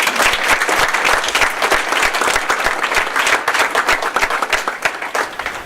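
An audience at a school-district citizen of the month event breaks into sustained, loud applause, dense overlapping clapping that stays even throughout, close up with no speech over it.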